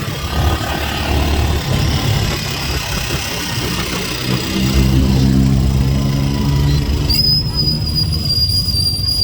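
Motor tricycle engine droning steadily throughout a ride in the Philippines, a continuous low rumble with shifting tone, loud and close, with a high whine appearing near the end.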